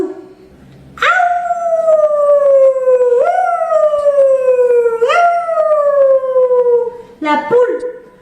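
A voice imitates a wolf, letting out three long, loud howls close up, each starting with a sharp rise and sliding slowly down in pitch, ending in a short yelping break.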